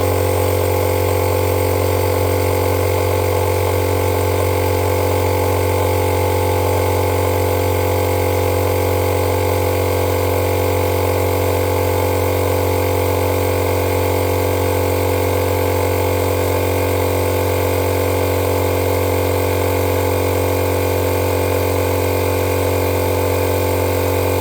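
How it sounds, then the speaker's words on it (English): A fuel pump runs steadily to flush methanol out of a carburettor fuel line on an FCR carb setup, giving a constant, close mechanical hum and whine that never changes in pitch or level. "So if I hit this pump now"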